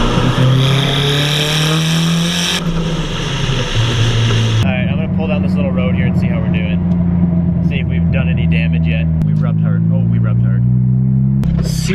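A car fitted with a new torque mount pulls onto a small road, its engine roaring loudly and steadily, with the pitch shifting through several gear-like steps as it speeds up and then rising again at the end.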